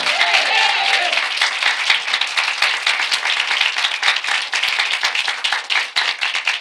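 A church congregation at a Sunday worship service applauds together, a dense, steady burst of many hands clapping that fills the whole stretch at close range, with no voices over it.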